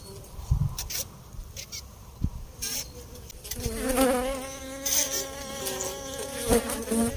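Honeybees buzz around an open beehive during an inspection, a dense, continuous close hum with rising and falling whines as bees pass near, broken by a few sharp handling knocks early on.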